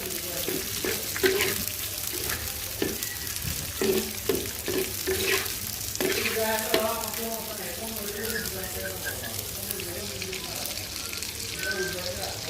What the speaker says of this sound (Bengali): পেঁয়াজের সাথে চিংড়ি মাছটা ভেজে নিব ভালো করে